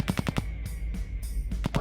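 Rapid bursts of automatic gunfire rattle off in quick volleys, separated by short gaps.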